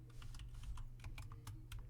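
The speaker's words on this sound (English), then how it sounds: "so I started typing back to the person" Fingers tap quickly on a computer keyboard, a dense patter of light key clicks at close range, continuous for a couple of seconds over a low background hum.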